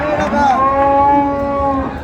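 A cow lets out one long, loud moo close by at a cattle market in Madaripur, Bangladesh, where Friesian bulls are traded; a drawn-out lowing call that rises and falls over about two seconds.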